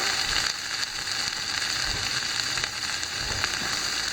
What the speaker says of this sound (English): so that's sizzling over there. Get it nice and hot.